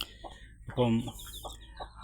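A brooding hen clucks close by, one prominent throaty cluck in the middle with softer short clucks before and after, under a faint voice.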